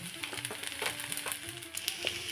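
Egg pasta fries in a pan with tomato sauce stirred through, giving a steady close sizzle with small crackles and scraping stirs throughout, no voices.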